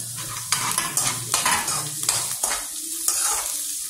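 Capsicum is tossed and stir-fried in a hot pan for carrot rice. Steady sizzling and frying run under repeated scraping strokes of a spatula, close and fairly loud throughout.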